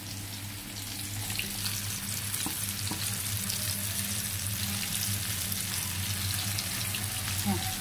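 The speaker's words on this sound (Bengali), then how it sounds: "এই যে দেখো চিকেনটা এখন ফ্রাই হয়ে গেছে।" Chicken fries in a pan while being pressed down, giving a loud, steady sizzle with scattered crackles over a low background hum.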